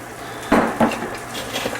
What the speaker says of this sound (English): Dump in the rice.